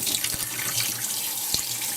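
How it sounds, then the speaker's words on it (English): A kitchen tap runs steadily into a sink, a close, continuous hiss of water with faint clinks, and no voices. "I'm going to have some water going here."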